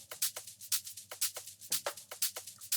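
Percussion loop in a house beat, a dry repeating pattern of crisp, bright hits in a steady syncopated rhythm, close and isolated with no voices.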